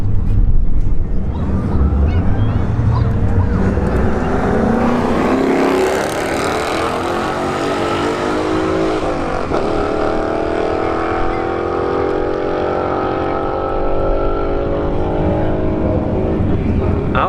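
A Ford Mustang S550 5.0 and an Audi launching side by side at a street drag strip, loud engines roaring and climbing through gears as they pull away, with a commentator's voice over the noise.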